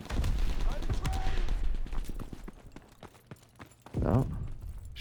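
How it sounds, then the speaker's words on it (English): Gunfire in the Call of Duty: WWII video game, a dense spread of sharp shots and bursts crackling through a busy battle mix, with a louder low rumble near the end. "So much shooting from over there?"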